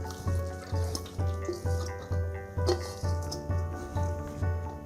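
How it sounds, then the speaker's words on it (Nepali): Cold tap water runs while grated potatoes are washed for cheese and potato pancakes, a steady close stream broken by rhythmic splashing pulses about twice a second. "फेरि यसलाई एकचोटि मजाले चिसो पानीले धुनुपर्छ।"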